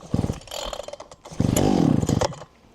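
A GRAND petrol brush cutter engine fires up and revs loudly, its two-stroke buzz rising and surging close by for a couple of seconds before dropping off.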